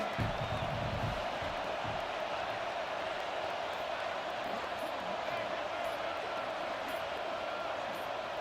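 A stadium crowd in the College Football 26 video game roars as a loud, constant wash of massed voices, broad and steady throughout, with a commentator's voice talking over it.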